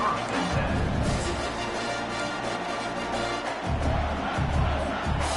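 A stadium crowd at a college football game roars and cheers after a punt return, a dense, loud wash of voices that surges and pulses throughout.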